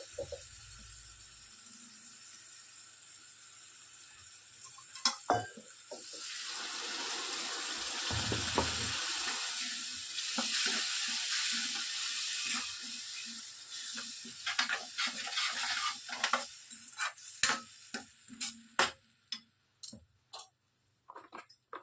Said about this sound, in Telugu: ఇప్పుడు మనము మిక్సీ పట్టుకున్నటువంటి టమోటా ప్యూరీని ఇందులోనికి వేసేసుకుంటున్నాను.